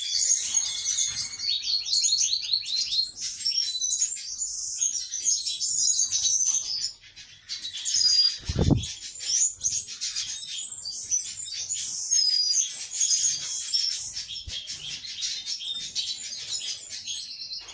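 Caged goldfinches and serins sing continuously in a dense, bright chorus of trills and twitters, close and loud throughout, with a short dip and a brief low thump midway.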